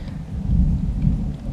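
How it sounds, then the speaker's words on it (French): Deep rolling thunder rumbles over steady rain during a thunderstorm, loud and close, with no voices. "Ah bah maintenant c'est l'orage."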